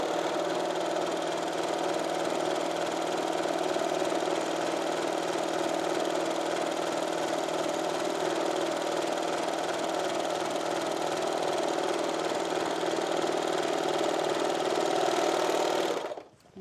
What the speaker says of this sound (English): And I'm going to go ahead and serge the bottom for the hem.